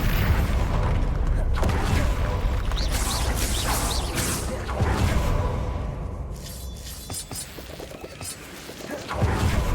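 Spell blasts cast in the video game Hogwarts Legacy: repeated booming impacts, whooshes and crashing bursts that keep up loudly and densely the whole way through, with a voice speaking over the combat.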